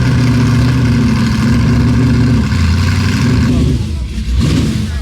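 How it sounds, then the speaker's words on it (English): Ariel Atom V8 engine revving loudly nearby at a hill climb, a sustained harmonic engine roar that dips briefly and swells again, with a voice talking over it. "it was the Ariel Atom V8"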